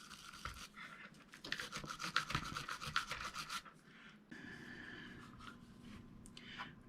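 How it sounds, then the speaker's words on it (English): A plastic brush scrubs rust on a Shakespeare Sigma Supra 040 rear-drag fishing reel, quiet rapid scratchy strokes in quick bursts, then a softer steady rubbing, close. "Maybe if I brush it a little bit, the plastic brush here, and get some of that rust freed up."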